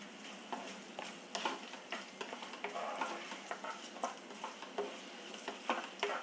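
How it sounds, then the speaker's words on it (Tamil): Chilies and raisins fry in hot ghee, a lively crackling sizzle broken by repeated sharp clacks and scrapes of a spoon stirring against the pan, close and continuous, with no one talking. "மிளகாயெல்லாம் நல்லா பொரிஞ்சு போச்சு, அப்படியே வெள்ளை வெள்ளையன்னு ஆகிட்டு"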